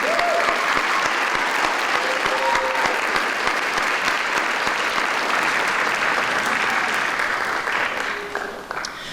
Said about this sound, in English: One more round of applause, Brian